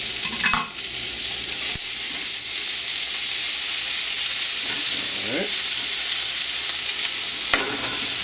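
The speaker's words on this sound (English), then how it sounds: "Get that oil hot. We'll put our aromatics in" Ginger, garlic and green onion fry in hot oil with a loud, continuous close hiss and sizzle, broken by a few brief utensil clinks and stirs.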